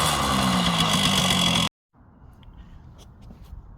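A Kawasaki KM100 motorcycle engine runs loud and close with a rough mid-pitched idle, then cuts out abruptly and leaves only faint background noise.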